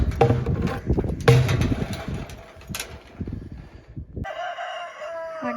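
Backyard chickens and a rooster crowing around a coop while out foraging, with clucks and a crow mixed with rustling and handling noise, then a steadier tonal call near the end.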